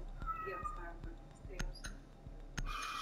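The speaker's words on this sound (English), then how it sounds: "Oh, he's meowing like all the time." A cat meows repeatedly and faintly in a room while a Rainbow Six Siege ranked match plays, with game sounds, sharp clicks and thumps over the quiet meows.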